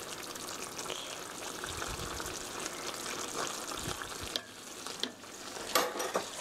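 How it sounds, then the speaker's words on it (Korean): A thickening starch sauce for a tofu rice bowl is stirred in a pan, giving a steady low bubbling simmer with soft scraping and a few clinks of the utensil against the pan, heard close with no voices. "완전히 풀어졌으면 조금씩 넣으면서 이렇게 저어주세요."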